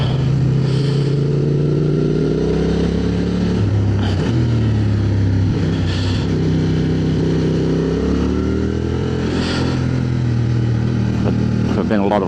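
A Honda Transalp 750 motorcycle being ridden, its engine droning steadily with rising and falling pitch as it shifts through gears, under a rider talking throughout.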